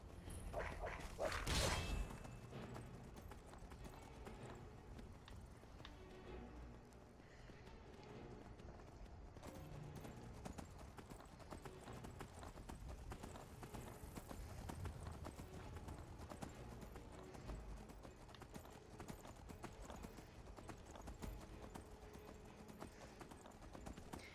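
Horse hooves clip-clop steadily in Skyrim, a brief louder burst at the start giving way to a continuous trotting rhythm under ambient game music and creaks for the whole stretch.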